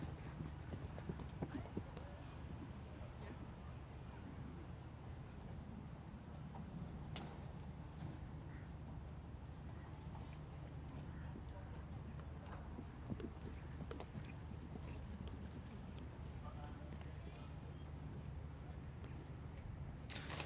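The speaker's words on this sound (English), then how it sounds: "So all the horses so far presenting, going through this trot up smoothly as Paolo Talonia and Bambo Delate come forwa" Hooves clip-clop in quick, regular trotting beats as horses are presented at an international CCI4*-L horse trials trot-up at Blenheim Palace. The hoofbeats sound moderately close under steady commentary, with a faint crowd murmur behind them.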